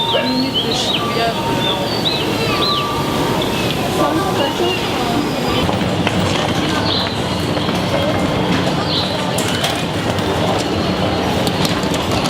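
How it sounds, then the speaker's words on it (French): Tokyo metro subway train near Shibuya station, a loud continuous rolling rumble with rattling and clatter inside the carriage, faint announcement tones and chatter mixed in. "On est encore dans le métro, on essaye de sortir"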